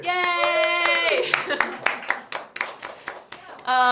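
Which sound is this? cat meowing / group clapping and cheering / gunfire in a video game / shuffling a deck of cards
group clapping and cheering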